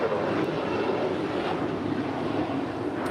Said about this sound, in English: Qatar Airways A350-1000 coming in from Doha